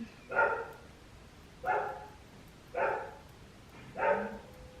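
Dogs barking in a sewing studio, four evenly spaced single barks roughly a second apart, moderately loud and close, with no talking over them.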